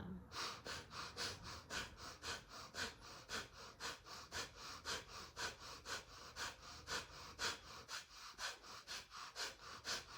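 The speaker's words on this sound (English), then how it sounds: "Fire breaths in 3, 2, 1." Rapid fire breaths during a breathing exercise: quick, rhythmic, forceful nasal exhales repeat about twice a second, close and steady for ten seconds with no talking.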